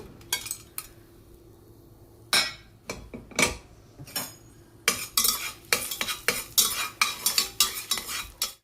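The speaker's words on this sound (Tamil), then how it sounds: "நம்ம எடுத்து வச்சிருக்க ஸ்பைசஸை இந்த பட்டரில் நம்ம சேர்த்துக்கலாம்" Whole spices, cinnamon, cloves, cardamom and bay leaf, frying in melted butter for rajma gravy, stirred with a metal spoon: soft sizzle under repeated sharp clinks and scrapes against the pan, sparse at first and then rapid and rhythmic, close by.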